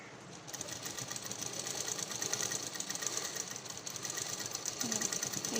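A sewing machine runs steadily while stitching lace onto a blouse, a quiet, fast, even mechanical whirr with rapid ticking, alone and fairly faint.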